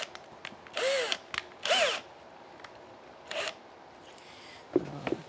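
Several short bursts of a power drill whirring up and winding down in a drilling guide on wood, separated by pauses, followed by a couple of light clicks near the end.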